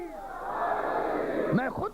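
A crowd roars back in answer to the Naara-e-Haidari chant at a religious gathering, a dense, loud swell of many voices shouting together, then dropping into scattered calls near the end.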